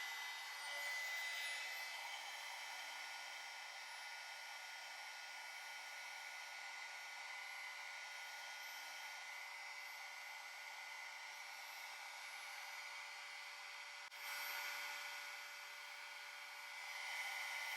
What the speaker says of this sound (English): Heat gun, and I'm going to let it heat up a little bit.